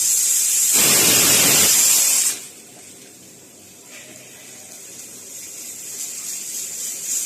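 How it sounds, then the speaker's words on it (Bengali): Steam hisses loudly from the whistle vent of a pressure cooker cooking 2 cups of rice in 4 cups of water on medium-low heat, a sharp burst that cuts off abruptly, followed by a low ambient rumble. "প্রেসার কুকারের সিটি দিয়ে অল্প অল্প বাষ্প উঠলে সিটিটা লাগিয়ে দিতে হবে"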